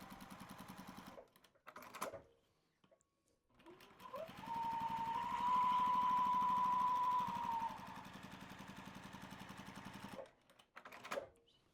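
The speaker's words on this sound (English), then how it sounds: "So if you've never used your walking foot, it's great if you want a straight line stitch." Sewing machine fitted with a walking foot running a straight-line stitch on a quilt, with short bursts of rapid mechanical whirring and clatter, then a longer steady stretch of stitching, close and clear.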